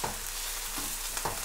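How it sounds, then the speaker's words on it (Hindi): Chicken frying with ginger garlic in a pan for Sindhi biryani, a steady dense sizzle heard close and alone with a few faint stirring scrapes. "इसमें हम अभी इसकी अच्छी से भुनाई करेंगे।"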